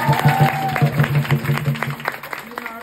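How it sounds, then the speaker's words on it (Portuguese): Applause at a dance workshop with Tião Silva, a short burst of group clapping close by, mixed with voices and fading after about two seconds. "Palmas pra Maria."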